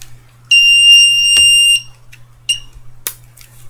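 A toy spy metal detector sounds a shrill electronic beep loudly for over a second, then a shorter beep follows, along with a couple of sharp clicks close by.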